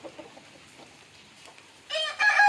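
A rooster crows loudly and close by, a bright, strained call that rises after a stretch of faint clucking and quiet background sounds.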